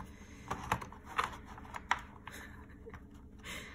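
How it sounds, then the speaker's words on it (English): Tarot cards are shuffled by hand in a quiet room, giving a few soft, close papery flicks and taps followed by a brief rustle. "now you get the stupid shuffle because my wrist hurts"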